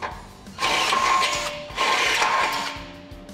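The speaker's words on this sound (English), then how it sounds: "This step bit makes quick work of boring out these holes." A step drill bit bores through metal in two sustained bursts with a short pause between them, loud and close, with a whining motor over a rattling base.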